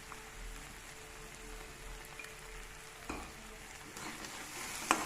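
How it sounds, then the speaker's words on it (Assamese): Fish belly, salted and spiced with turmeric, frying in a pan: a quiet, steady sizzle with a few soft clicks of stirring near the end. "মাছৰ পেটুখিনি আধা ভজা হৈছে"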